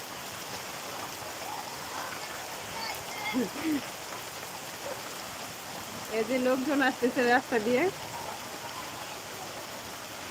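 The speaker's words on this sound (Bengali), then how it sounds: "এখন বৃষ্টি নামছে বৃষ্টি শুরু হয়েছে" Steady rain hissing down all around in Gazipur, with a person speaking briefly partway through and other voices calling over the downpour.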